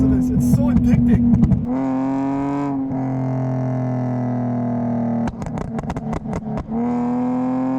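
A BMW E46 with a Stage 3 Revmatch Motorsport tune revs hard up close, its loud sustained engine tone rising and settling, broken by bursts of sharp crackling pops on the overrun.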